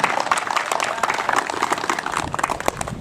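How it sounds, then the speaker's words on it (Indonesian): Applause rises from the crowd at a local village football cup match, a dense, continuous patter of many hands clapping at moderate distance, with faint voices mixed in. "Silakan tepuk tangan."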